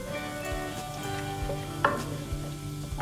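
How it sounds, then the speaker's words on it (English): Spices frying in about half a cup of hot oil already used for frying onions, a soft steady sizzle with light stirring clicks and scrapes, fairly quiet with no voices. "I'm going to add the spices in the oil"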